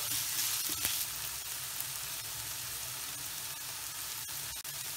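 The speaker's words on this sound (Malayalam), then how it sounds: "വെളുത്തുള്ളി ചതച്ചതും ചേർത്ത് കൊടുക്കാണ്. അത് ഒരു 1/2 സ്പൂൺ ചേർത്ത് കൊടുക്കണ്ട്. നന്നായി വഴന്ന് വരണം." Crushed garlic sizzling steadily in hot oil in a pan, a dense continuous frying hiss for pepper chicken fry, close and alone with no talk.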